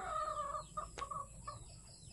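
Chickens clucking close by, a few short rising clucks and soft calls over a quiet farmyard background, with a faint peck-like tap in the middle and no talking.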